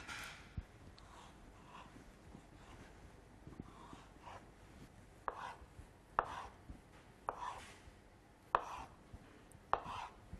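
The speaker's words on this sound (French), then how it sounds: "je découpe ma tranche de saumon et je vais faire quelques lamelles également avec mon avocat" A knife slices through salmon and avocado on a cutting board, making a series of crisp, irregular chopping taps that grow sharper and more distinct toward the end, with no voices over a quiet room background.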